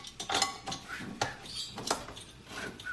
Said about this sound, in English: I'm frying these yams real quick